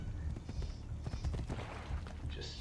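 A horse in the Assassin's Creed Brotherhood video game trots with a run of quick hoof clip-clops, fairly faint and steady, with a brief whinny-like tone near the end.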